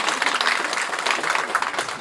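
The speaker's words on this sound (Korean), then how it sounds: "이철우 도지사님한테 고맙다는 뜻으로 박수 오장 부탁드립니다." An audience claps in a brisk, dense round of applause at a provincial government briefing on a cell-cultured food regulation-free zone, a short, fairly loud burst of many hands.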